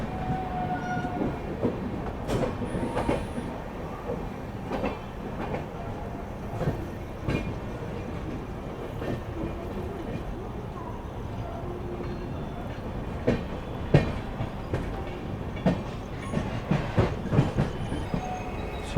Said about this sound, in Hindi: चलिए यार, नागपुर से अपना डिपार्चर हो चुका है।